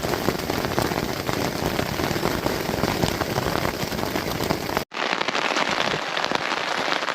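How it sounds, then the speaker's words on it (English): Steady, dense rain patters on a tent through a night in the Tonquin Valley backcountry, loud and continuous throughout with a brief dropout near the end before the patter resumes. "I'm waiting out the rain, so good night."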